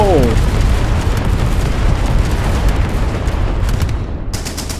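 Flak 88 anti-aircraft guns firing in a video game, a heavy booming blast with a long rumbling roar that slowly fades, loud and close.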